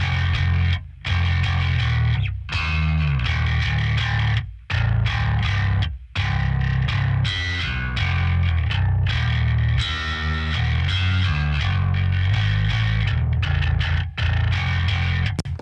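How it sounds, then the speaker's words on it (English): Distorted bass guitar riff from a metal album recording, a loud, dense, gritty low line that runs continuously with a few short breaks, heard alone without speech. "I think it's one of the most gnarly bass parts on the album."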